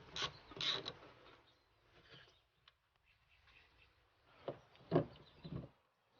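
A 10 mm socket wrench ratchets while removing nuts on a Hummer hood latch, producing a few close, quiet clicking bursts separated by pauses, with no talking.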